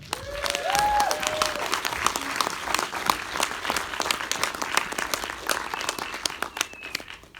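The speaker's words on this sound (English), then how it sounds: "big round of applause" Lively applause from an audience at a film Q&A as a screenwriter is introduced, with individual claps standing out over the crowd and a few whoops rising through the clapping.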